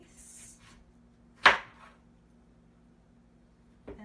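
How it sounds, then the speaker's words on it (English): A knife cutting through a peeled potato on a board: one crisp, sharp chop up close, a second fainter cut near the end, and quiet room tone between. "I'm going to make cubes by going one way and then the other way"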